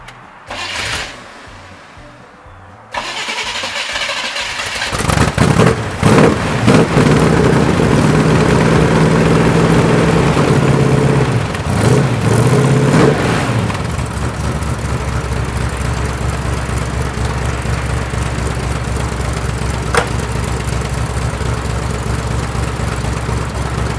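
An abandoned big block Camaro, revived after sitting as a 1980s time capsule, cranks briefly, then fires and settles into a loud, steady, rumbling idle that runs on continuously with slight throttle changes early on.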